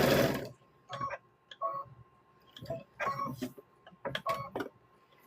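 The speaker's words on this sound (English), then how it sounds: "Get this one stitched up." A sewing machine stitching a quarter-inch seam around two 10-inch fabric squares, running in short whirring bursts separated by brief pauses after an opening clunk.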